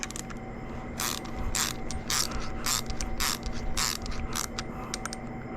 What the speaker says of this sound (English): just to tighten that Nylock up